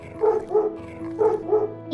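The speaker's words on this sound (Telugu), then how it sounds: "ఊరిలోకి ఒక పెద్ద కుక్క వచ్చింది" A large dog barks close by, four loud barks falling in two quick pairs, with no voices.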